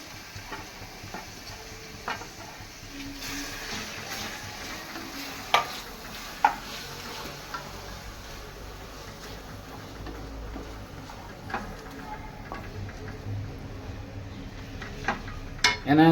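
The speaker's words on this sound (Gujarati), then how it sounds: "પછી આપણે ડુંગળી અંદર નાખી દઈશું" Chopped onions sizzle steadily in a hot pan for paneer palak, a low continuous frying hiss broken by occasional scrapes and clinks of a spoon against the pan.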